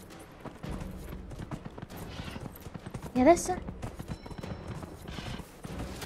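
Horse hooves galloping in Dragon Age: Inquisition, a steady clip-clop running under game music and effects, with a louder splash-like burst midway as a person speaks briefly over it.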